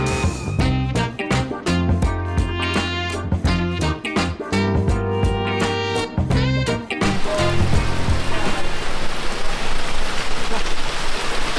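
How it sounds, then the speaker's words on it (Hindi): Heavy rain pours down steadily outdoors, a dense, loud hiss that swells and dominates by the end, with a rhythmic background pattern fading out partway through. "जोरदार बारिश हो रही है।"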